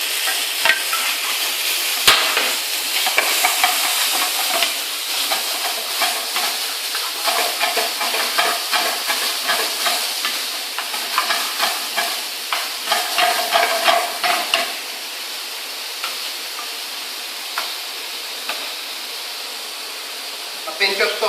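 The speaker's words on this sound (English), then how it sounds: "Now it's time to put your chopped tomatoes in." Chopped tomatoes cooking in a pan for tomato concasse, a busy wet sizzle with repeated stirring scrapes and bubbling, close and fairly loud, calming down toward the end.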